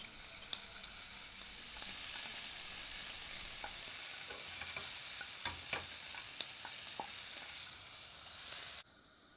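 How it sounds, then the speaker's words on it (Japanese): Rabbit liver and kidneys sear in olive oil in a hot frying pan, making a soft, even hiss dotted with small pops and crackles before the sound drops away just before the end. "熱いフライパンの中に肝臓と腎臓を入れて表裏さっと焼いたら完成です"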